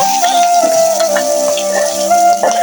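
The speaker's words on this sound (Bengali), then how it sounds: "এই তেলের ভিতরে আমি আলু কতক্ষণ ভেজে নিব" Boiled potatoes fry in hot oil with cardamom, cinnamon, cloves, cumin, bay leaf and green chilli, giving a steady close sizzle with faint crackles over a sustained tone.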